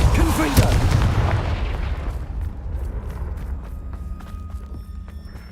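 A Confringo blasting curse explodes in the Hogwarts Legacy video game, a loud booming blast at the start that rumbles and fades over several seconds, with faint footsteps afterward.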